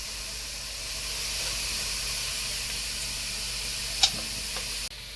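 Onion fries golden brown in a pan for chicken sukka, a steady soft sizzle and hiss, close and continuous, with a single light clink near the end.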